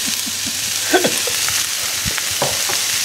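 Bacon lardons fry in a pan with a close, steady sizzle, broken by scattered scrapes and knocks of a utensil stirring them.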